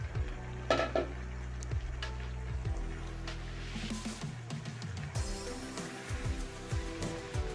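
Mustard greens being stir-fried with pork over a high gas flame, with a steady sizzle and repeated scraping and clinking of a spatula against the pan, close and without speech.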